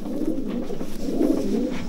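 A racing pigeon in a loft coos in low, throaty rolling phrases, close and clear, repeating twice over the short stretch with no talking.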